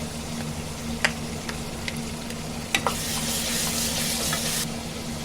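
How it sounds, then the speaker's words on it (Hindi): Steady sizzling of ginger garlic paste frying in a pan, with a few light clinks and scrapes of stirring, close and moderately loud, no talking. "अदरक लहसुन को अच्छे से भूनेंगे"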